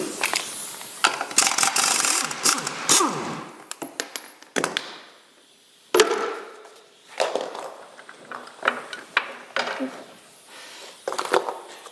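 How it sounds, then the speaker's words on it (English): Rattling impact gun on a 1967 John Deere 710 tractor, working a last bolt loose during a brake cross shaft job, with several loud, close mechanical bursts broken by short pauses and metallic clatter. "we'll just take the impact gun to get this last bolt off"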